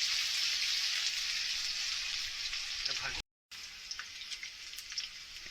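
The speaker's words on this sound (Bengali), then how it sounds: "এই দুটোকে আমি হালকা করে একটু ভেজে নেব।" Red sweet potato and potato pieces sizzle lightly in hot oil, a steady close crackling hiss with small pops, continuing after a brief cut.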